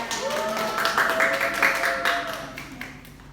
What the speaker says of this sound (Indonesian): Tepuk tangan buat Mbak Dian